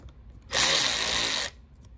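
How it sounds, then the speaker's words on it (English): Power tool whirring for about a second while removing a part on a Yamaha FZ-07 turbo build, a sharp high buzzing burst that starts and stops abruptly amid quiet workshop background. "I then grab my tin socket and I go ahead and pop that off."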